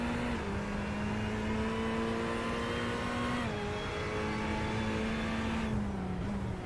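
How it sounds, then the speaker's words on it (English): An NSS GT3 race car accelerating hard around Mount Panorama, its engine a loud, sustained drone that rises steadily in pitch, dips briefly at a gear change and then climbs again, with no voices. "Down through the first turn and gaining ground very, very quickly on Matt Baer."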